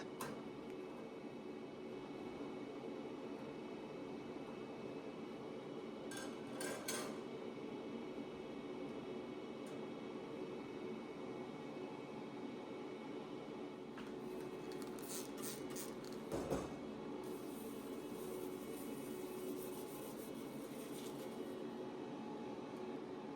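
Shroomagic laminar flow hood for mushroom cultivation running with a faint, steady airy fan hiss and hum, broken by a few brief clicks and knocks, with no talk.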